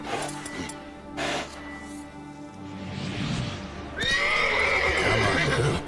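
A horse named Roach neighs and whinnies loudly in The Witcher 3 game, rising into a strong drawn-out whinny in the final seconds over faint hoof clops and background game ambience.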